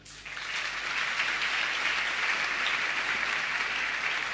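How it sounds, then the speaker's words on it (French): Audience applause during a pastor's message to couples in a church setting, a sustained loud wash of clapping that swells within the first half second and stays steady throughout, with no talking. "Acclamons les femmes."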